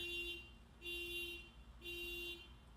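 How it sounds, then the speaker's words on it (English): A car alarm sounds outside in three repeating bursts, each a steady tone lasting about half a second with gaps between, moderately loud over a low background rumble. "Sorry about the car alarm here."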